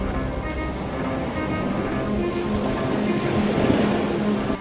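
Roaring sea waves in a Malayalam radio drama, a deep, steady surge that swells slightly toward the end, with a low tonal hum running beneath and no speech.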